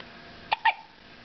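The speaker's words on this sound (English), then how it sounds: "Hiccup." Two quick hiccups, from someone who has the hiccups, pop out close together, the second a little longer, against a quiet room with no talking.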